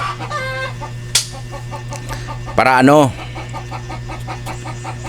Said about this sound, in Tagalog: Dami nating manok guys.